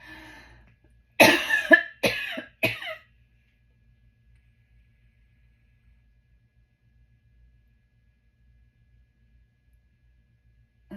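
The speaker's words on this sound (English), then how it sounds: "I'm done coughing." Three harsh coughs in quick succession, close and loud, followed by a long stretch of near silence.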